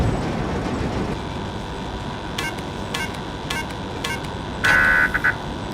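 A train in a PC video game rumbles steadily, with scattered metallic clicks and a short electronic beeping tone near the end, and no talking.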